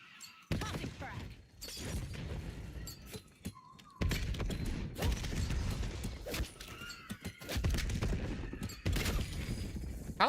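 A frag grenade bursts amid dense gunfire in the video game Black Ops 7. Rapid volleys of shots crack again and again, fairly loud, and a player talks over the firefight.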